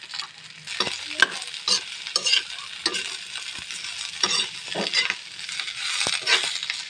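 Vegetables sautéed in a wok with garlic and onion give off a steady close sizzle, broken by repeated scraping strokes of stirring throughout.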